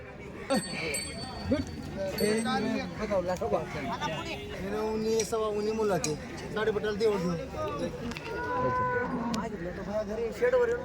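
A cow moos repeatedly, loud and close, amid a busy crowd of people talking at an outdoor cattle market in Nalegaon, Latur.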